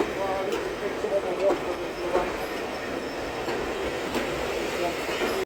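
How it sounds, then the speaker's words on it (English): A steam train arrives at a station platform, rumbling steadily nearby with clattering wheels and occasional squeals, a continuous mechanical roar that fades out abruptly at the end. "just arriving in on platform 2 here at Wilton is the final steam train that I need to catch"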